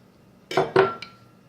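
Flour, sugar and butter mixed in a bowl for an orange crumb cake, heard as two or three close clinking knocks of a utensil against the bowl, brief and alone.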